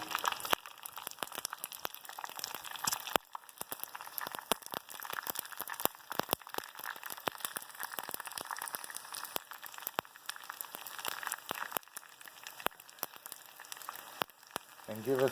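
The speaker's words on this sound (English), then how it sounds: "we take the skins and dump them in the oil. And as these cook, they're going to puff up" Pork skins frying in hot oil, a dense, steady crackle and sizzle of popping bubbles that runs continuously at close range, with no talking over it.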